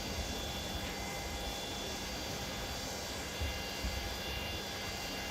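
Quiet, steady whine and hiss of a FedEx Boeing 727 taxiing in Microsoft Flight Simulator, a constant engine drone with faint tonal hums and no talk.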